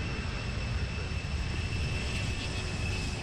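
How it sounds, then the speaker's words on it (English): Four General Electric CF6-80C2 engines of a Lockheed Martin C-5M Super Galaxy cargo aircraft produce a loud, steady jet roar with a high whine, constant throughout and free of speech. "The C-5M Super Galaxy is equipped with 5 sets of landing gear, 28 wheels, 4 General Electric CF680C2L1F commercial engines"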